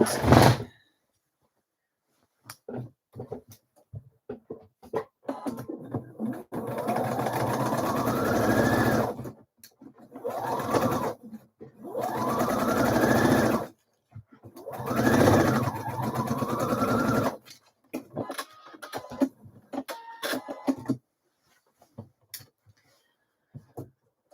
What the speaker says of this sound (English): We're going to stitch those outer shoulder seams together